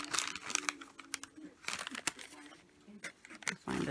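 Brown packaging paper is handled, producing bursts of crinkling and rustling of varying loudness up close, with brief pauses and a sharp crackle near the end.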